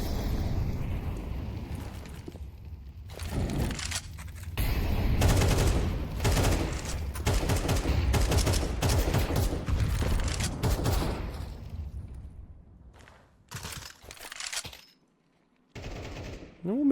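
Dense, loud bursts of rapid gunfire and booming shots fill a Counter-Strike match in which a Desert Eagle is used, then give way to scattered quieter shots and gaps near the end.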